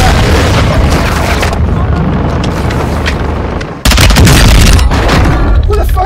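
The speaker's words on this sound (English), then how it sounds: "Billy, did you throw a Sumtex at me?" A Semtex grenade explodes in a multiplayer video game, a loud booming blast followed by rumbling gunfire and heavy, continuous noise from the game.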